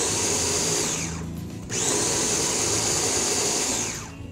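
An electric kitchen chopper whirs loudly while chopping tomato and onion, running in two steady bursts with a brief slowdown between them, a high motor whine over the grinding of the vegetables.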